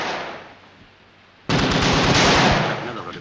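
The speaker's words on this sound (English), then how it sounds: "Machine gun." Machine gun fire in a 1943 wartime film, a loud, rapid rattling burst that starts abruptly after a quieter lead-in and keeps hammering close by for nearly two seconds before easing slightly.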